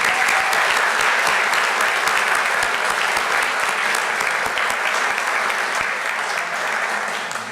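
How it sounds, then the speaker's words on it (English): Audience at a board of education meeting giving a sustained round of applause, steady dense clapping from many hands at full volume that holds throughout and eases only slightly at the end. "he deserves a round of applause right now"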